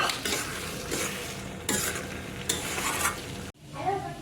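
A spoon stirring peanut curry in a pot after coriander leaves go in, loud scraping strokes over a steady sizzle, then a sudden stop and a quieter hiss.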